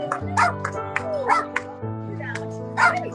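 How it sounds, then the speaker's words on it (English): Several excited dogs bark, yip and whimper outdoors at a festive gathering, short repeated bursts close by over a steady tonal background with voices. "There's very excited dogs."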